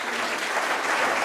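Audience clapping at a business school conference and awards ceremony in Bangalore, a dense, sustained burst of many hands filling the hall, loud and steady throughout.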